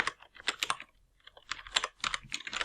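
Close, crisp computer-keyboard typing in short bursts of clicks, with a brief pause in the middle before a faster run of keystrokes.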